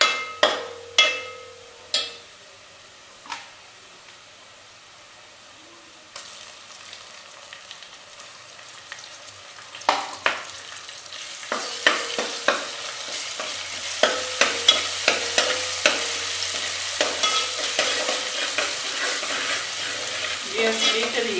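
Ginger goes into a pan of onions fried until pink for a dhaba-style mixed dal. Sharp stirring scrapes and clatters come first over a quiet fry, then a louder, steady sizzle builds.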